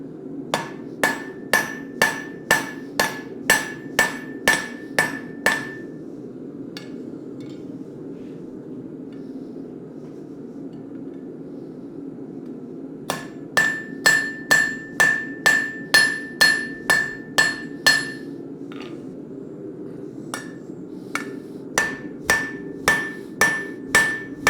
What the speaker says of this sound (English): What's nice about my rounding hammer is it is really round.